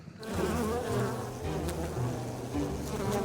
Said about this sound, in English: tend a colony of angry bees